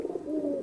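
A newly acquired courting pigeon coos in a steady, rolling series of low throaty calls, close and clear with no talk over it.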